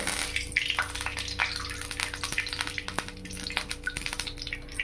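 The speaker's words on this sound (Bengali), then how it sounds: "আবার কড়াই বসিয়ে দিয়েছি এবারে দিয়ে দেব কড়াইয়ে তেল" Oil poured into a wok set on a gas flame gives a close, continuous liquid rush with faint clinks of utensils and no one speaking.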